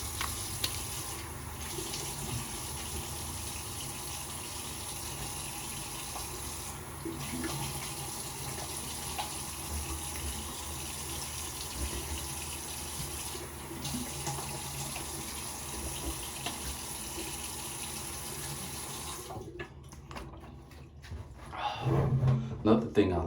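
Tap water runs steadily while a shaving brush is rinsed, a constant broadband splash that holds for about twenty seconds before breaking into brief, closer splashes and clatter at the end.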